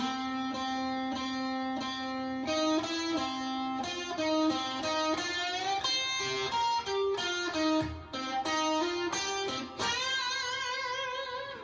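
A guitar riff played very slowly, single notes ringing out one after another with long sustained tones and a few wide pitch bends, no voices.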